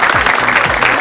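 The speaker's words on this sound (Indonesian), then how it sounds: "tepuk tangan untuk mereka." Loud, close audience applause in a television talk-show studio, a dense continuous wash of clapping for a moment with no voices over it.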